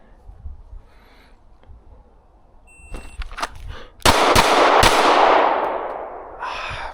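Gunshots at an outdoor range drill on a spring day: a few sharp reports, then two loud, close cracks about half a second apart with a rolling echo trailing after them.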